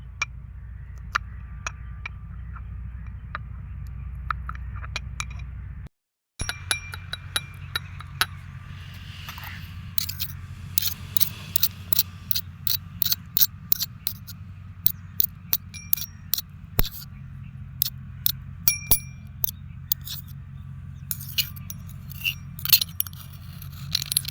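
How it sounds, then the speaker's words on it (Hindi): Garlic being pounded in a small mortar and pestle, a series of sharp, irregular metallic taps and scrapes growing more frequent, close and alone over a low background hum. "ये हमाम दस्ता है छोटा सा, इसी में डालें और ये डाल गया, इसको बारीक कर ले और कूट ले"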